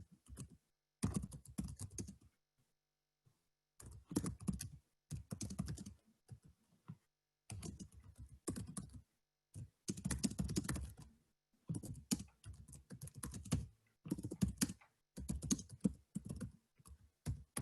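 Bursts of keyboard typing on a computer, quick irregular keystrokes in clusters separated by short pauses, close and fairly quiet with no voices.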